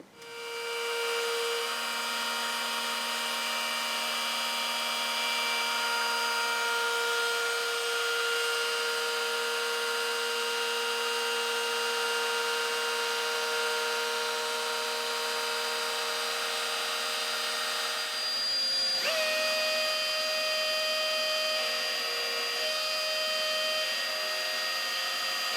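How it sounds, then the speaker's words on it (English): Router cutting out the body of a custom bass guitar, a loud, steady high-pitched motor whine with a grinding cutting noise, held continuously with a brief shift in pitch partway through. "So we're going to route out that part first. We'll switch over and route out this part, and then we'll be able to route out the rest of the body."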